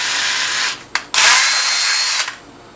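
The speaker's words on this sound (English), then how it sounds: "I'm gonna get my drill with my drill bit and drill a hole here on the helmet" A power drill whirs loudly close by, drilling a hole in a helmet, stopping briefly once before spinning up again and winding down.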